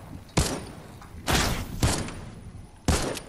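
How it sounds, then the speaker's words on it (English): Dual pistols firing in Fortnite, four sharp, loud shots in an irregular rhythm, close by, with no talking. "He's shooting dualies."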